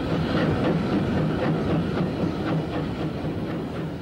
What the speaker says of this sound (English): so it was that Pat Whitehouse and John Adams came to film this extraordinary locomotive, kept in magnificent condition after a recent overhaul.